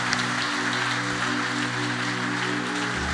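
Congregation applauding in a church, a steady wash of dense clapping that fills the room continuously with no pauses, loud and sustained over a low organ or keyboard drone.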